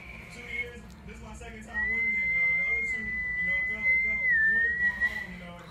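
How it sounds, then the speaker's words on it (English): A person whistles a long steady, slightly wavering tone lasting a few seconds, close and clear, with brief shorter whistles just before and voices talking around it. "I thought it was whistling."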